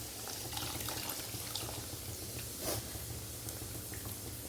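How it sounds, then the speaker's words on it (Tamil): Tamarind water goes into a simmering drumstick, potato and brinjal sambar, making a soft, steady liquid wash with one brief surge, faint and continuous without any voices. "இப்போ வந்து சாம்பாருக்கு புளி ஊற்றிடும்"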